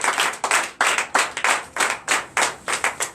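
A church congregation at a Sunday worship service in Benin claps for Jesus in a brisk, steady rhythm of loud, crisp group claps, repeating evenly with no talking.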